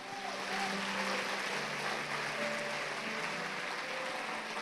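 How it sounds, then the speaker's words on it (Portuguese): A church congregation applauds at a Portuguese-language worship service, a soft, steady wash of clapping heard from a distance with faint voices underneath. "Você pode dar uma salva de palmas a Jesus?"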